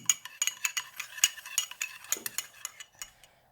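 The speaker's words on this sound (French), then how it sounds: "Et on va mélanger le tout avec environ une demi-cuillère à café d'eau." A spoon stirring rouille mixture with a little water in a small bowl, scraping and clinking in quick, rhythmic strokes, close and fairly quiet, with no talking.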